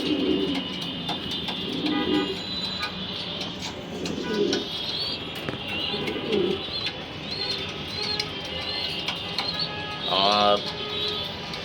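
Racing pigeons coo in low, rolling bursts again and again, with occasional chirps and a flutter of wings nearby.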